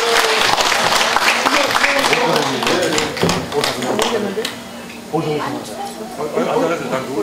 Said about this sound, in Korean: 여러분 큰 박수로 맞아주시면 좋겠습니다.